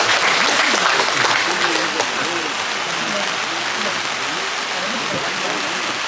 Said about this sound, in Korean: 우리 박수 한번 주실까요?